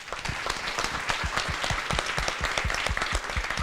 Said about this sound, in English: Please give me one more round of applause to our excellent hosts and our distinguished panelists